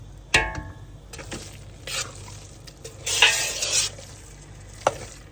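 Homemade tomato paste fries with oil and salt in a pot, giving a low background sizzle under repeated scraping stirs and metallic clinks of a spoon against the pot.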